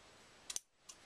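Scissors snip twine at an angle in two quick, sharp clicks close by, then a faint third click, in quiet surroundings.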